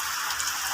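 Steady rain pours down outdoors while children bathe in it, a continuous hiss of falling drops with no talk over it.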